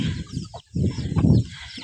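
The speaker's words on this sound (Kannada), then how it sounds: "ಎಲ್ಲ ಕಡೆ ಕೋಳಿ ಮರಿಗಳು ಜಾಸ್ತಿ ಆಗಿಬಿಟ್ಟು" Hens and young chicks cluck and squabble nearby in a crowded farmyard, a busy run of short clucks and calls with a brief pause, without any talking.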